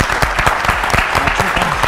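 Audience applause at an Armenian TV quiz game show, a dense burst of many hands clapping loudly and continuously throughout, with faint voices mixed underneath.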